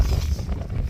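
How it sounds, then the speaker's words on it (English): Strong wind on a mountain top in North Wales buffeting the microphone, a loud low rumbling roar with gusty fluctuations throughout. "I might have to put my hand over the mic, try and buffer out the wind"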